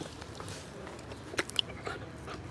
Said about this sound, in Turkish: Bak şu an dişleri kaşınıyor o yüzden bileğimi kaptı.